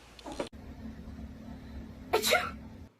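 A stage-play actor sneezes loudly twice, once at the start and once near the end, with a low steady hum between the sneezes.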